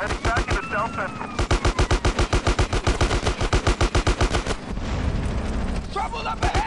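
Rapid, sustained automatic gunfire in GTA San Andreas rattles on loudly in a steady stream of close shots, pausing briefly near the end before more bursts return, with game voices and effects mixed in.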